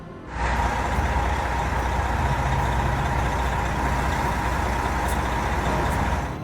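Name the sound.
heavy logging truck driving with a load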